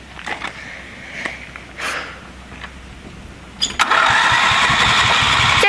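A 400cc custom go-kart engine cranks with a few sputtering attempts, then catches and settles into a loud, steady, buzzing run that holds to the end.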